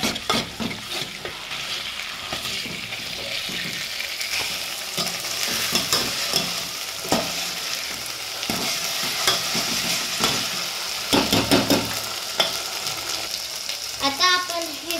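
Sambar ingredients with ginger-garlic paste stirred and frying in a pan, a steady close sizzle broken by repeated scraping strokes of a spoon, with a few brief clinks near the end.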